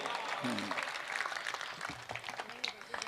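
An audience applauds at a Hindi comedy show, brief scattered clapping with talking and voices running over it.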